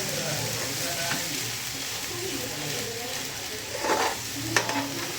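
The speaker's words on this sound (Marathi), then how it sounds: "तो मसाला फ्राय करून घेणार आहोत" Masala sizzles and fries in plenty of oil in a pan for a Mumbai-style fish gravy, a steady close crackle with a few louder stirring scrapes near the end and no talk.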